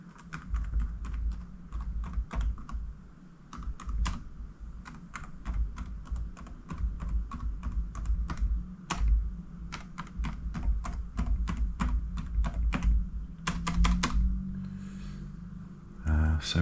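Clicky key presses on an IBM ThinkPad 600E laptop keyboard with faulty keys, tapped in irregular bursts with brief pauses and a faster flurry near the end, close and moderately loud over low background hum.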